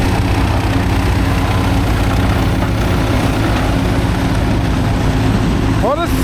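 A David Brown 1490 tractor idles at a silage harvest, its steady low engine rumble running loud and continuous throughout amid other farm machinery noise.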